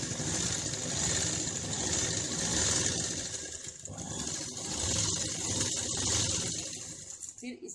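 A sewing machine runs steadily, stitching a folded strip onto a blouse with lining, its even mechanical whir continuous and close, with a brief slowdown midway and a voice talking over it.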